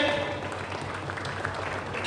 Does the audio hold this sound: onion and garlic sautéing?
no